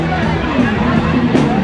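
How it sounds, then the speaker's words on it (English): Dense crowd hubbub at Venice Beach, a steady close wash of many overlapping voices and general outdoor bustle with no single voice standing out. "maybe up a bit so you get an idea of the crowds here"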